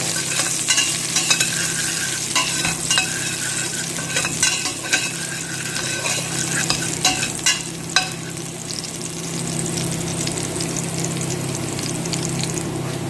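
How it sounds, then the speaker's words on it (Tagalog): Garlic frying in hot oil in a pan, a steady sizzle with intermittent scraping and stirring clicks, close and moderately loud. "Hintayin natin na mag-brown yung bawang guys."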